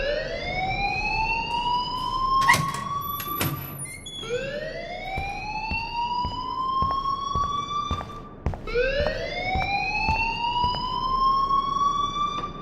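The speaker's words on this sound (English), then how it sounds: "please turn off that alarm since that's your job" An alarm rings in the video game Life Is Strange: a loud wailing tone that sweeps upward and repeats three times in steady cycles, with a few sharp clanks mixed in.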